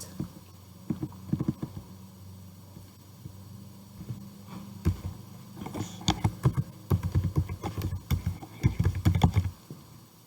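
Someone types by hand on a computer keyboard, filling in text in an office software exam task: sparse keystrokes at first, then denser irregular bursts of close, crisp clicks over a low room hum, with no talking.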